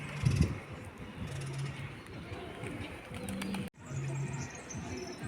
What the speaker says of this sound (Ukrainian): Тут ще голуби є.